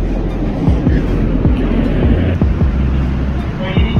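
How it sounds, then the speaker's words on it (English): A Los Angeles metro train runs along with low rumbling and rhythmic clunks and squeals from the wheels inside the car, while people talk over the noise. "Into this metro train."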